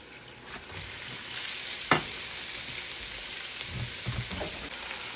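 Garlic and pork fry in a pan with a steady, close sizzle. Scattered clinks and stirring scrapes sound over it, including one sharp metallic knock.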